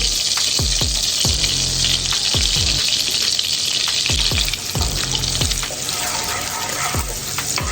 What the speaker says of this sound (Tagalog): While melting our butter, let's start adding our garlic here.